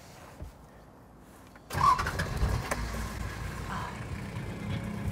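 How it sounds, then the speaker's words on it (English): A diesel engine cranks and catches with a sudden loud start, then settles into a steady, rumbling idle close by. "To hear some of that diesel engine purr."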